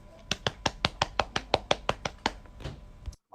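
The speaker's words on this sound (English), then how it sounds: "I think that's patting your knees" Hands patting on knees, about twelve soft, even slaps in a steady quick rhythm, close and clear, followed by a looser scuffling flurry before stopping.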